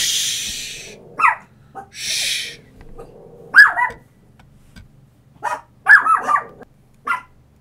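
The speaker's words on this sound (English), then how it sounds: "Hopefully my dogs will quiet." Dogs bark indoors in a room, sharp close yaps coming in short bursts with pauses between them, mixed with bouts of loud panting or snuffling breaths.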